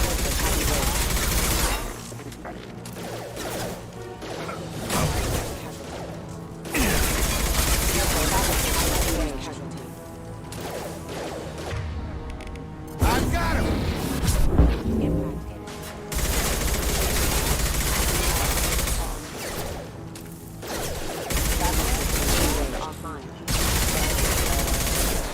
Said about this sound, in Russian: Что-то мне эта винтовка вообще не нравится. Патрон дофига выстреливает,